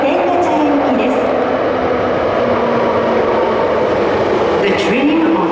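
An Osaka Metro Sakaisuji Line train pulls into platform 1, a loud, steady rumble of wheels and motors filling the station, with brief high squeals and a station announcement voice over it.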